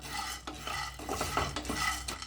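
Peanuts being lightly dry-roasted in a pan and stirred for an Indian aval burfi sweet, giving close, steady scraping and rattling strokes at an even rhythm with a faint sizzle underneath.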